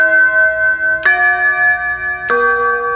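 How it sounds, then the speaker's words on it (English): Three loud, ringing bell strikes from the Big Bells 1 multi-pad on a Yamaha Genos keyboard, each struck clearly and left to sustain with bright overtones. "In my multi-pads, I stored Big Bells 1 as well in my one-touch settings"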